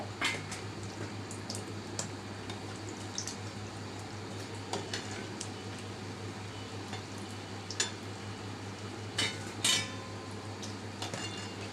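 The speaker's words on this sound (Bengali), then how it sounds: "একটু ঘন ঘন নাড়াছাড়া করে দিতে হয়" Momos frying in oil while being stirred with a metal utensil, a continuous sizzling hiss over a low hum, broken by repeated clinks and scrapes against the pan that grow louder near the end.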